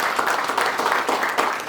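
A church congregation bursts into brief, loud clapping, a dense burst of applause lasting under two seconds with no voices on top.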